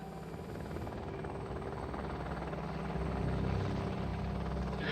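A military helicopter flies during an assault at Bulow-Marère, its rotor and engine making a steady, dense drone that holds alone throughout, growing slightly louder toward the end.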